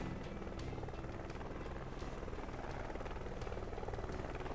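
A helicopter flying in the video game Wanted: Dead, a continuous low rotor drone with steady buzzing, heard faintly and evenly throughout.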